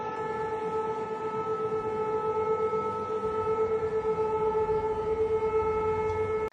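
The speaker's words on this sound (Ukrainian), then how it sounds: "Місцеві мешканці чули звуки роботи ППО та сирени повітряної тривоги." A steady, sustained wail of an air raid siren sounds at a distance during a drone attack on Sochi, Russia, holding an even tone throughout with no talking.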